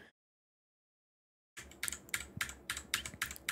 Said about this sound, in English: If you start at zero, you'll be able to hear my keyboard.